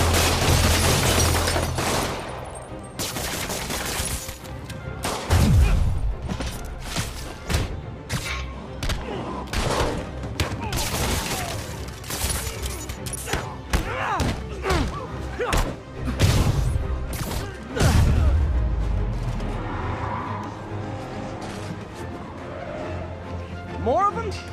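Bursts of gunfire and impacts sound in the Spider-Man PS4 video game, loud and repeated in an action scene along with crashes and booms, and character voices come in between.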